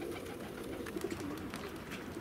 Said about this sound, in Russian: Ну вот, немножечко голуби полетели.